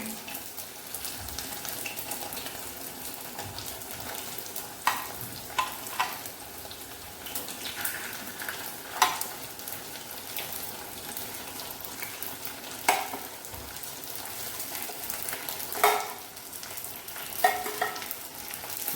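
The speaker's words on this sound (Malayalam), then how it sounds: "ഇത് നിങ്ങൾ ഫ്രൈ ചെയ്തെടുക്കുമ്പോൾ ശരിക്കും എല്ലാം കൂടെ ഒരുമിച്ച് വരും കേട്ടോ" Veg manchurian balls deep-frying in hot oil, stirred with a ladle, a low steady bubbling sizzle broken by occasional clinks and scrapes of the ladle, moderately quiet and with no voices.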